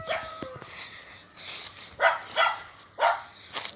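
A household dog barks from a distance outdoors, a few spaced yelps and barks over quiet background, faint and rhythmic.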